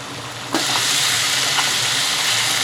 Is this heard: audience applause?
no